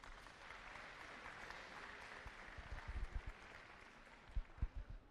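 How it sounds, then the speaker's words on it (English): Audience applause at a women's Division 1 basketball grand final in Launceston, a steady broadband clapping wash with a few louder claps and thumps standing out near the end. "So a round of applause to them."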